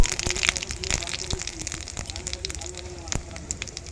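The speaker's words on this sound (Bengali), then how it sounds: "জিরে ফোড়ন দিচ্ছি আর কিছুটা শুকনো লঙ্কাও ফাটিয়ে দিচ্ছি" Cumin seeds and dry red chillies crackling in hot oil in a pan, with dense, rapid pops and a steady sizzle close by, prepared for a potato and pea curry.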